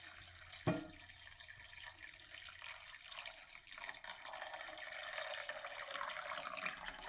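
Water runs steadily from a tap into a container of peanuts to soak them, a brief splash at the start followed by a continuous rushing flow that grows slightly fuller.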